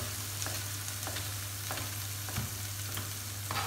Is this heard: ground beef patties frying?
yes